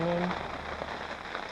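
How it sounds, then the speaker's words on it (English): Steady rain patters on a surface, a dense continuous hiss with a brief tonal hum at the start. "It's raining."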